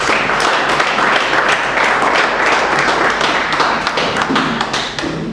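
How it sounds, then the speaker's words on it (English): A lecture-hall audience gives a dense, sustained round of clapping, loud and close, holding steady for several seconds before thinning slightly at the end. "Can I ask you to give a round of applause for yourselves?"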